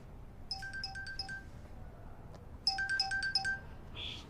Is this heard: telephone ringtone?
yes